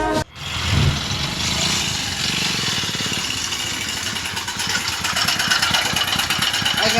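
A motorbike engine idles close by, starting with a sharp knock and then settling into a steady, even putter that grows slightly louder toward the end.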